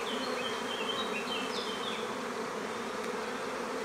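Steady buzzing of many honeybees close by at an open hive as a drone-comb frame is pulled, a dense continuous drone with no voices.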